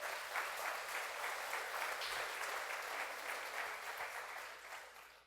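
A church congregation applauds during a sermon in sustained, dense clapping that fills the room evenly and fades slightly at the close.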